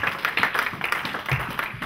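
Congregation clapping during a church service led by a pastor, quick, rhythmic handclaps from many people blending into short bursts of applause, fairly close and lively.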